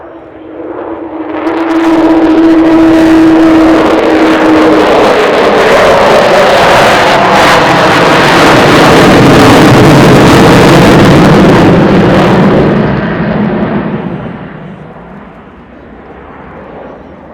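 Avro Vulcan bomber jet engines swell into a loud, sustained roar that builds over a couple of seconds, holds for about ten seconds with a rising howl, then fades as the aircraft passes during an air display.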